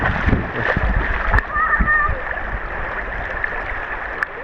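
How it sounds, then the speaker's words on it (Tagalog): Strong river water rushes steadily near Caunayan Falls in Baler, Aurora, with splashing and gurgling, a continuous loud flow close by. "Malakas yung agos eh."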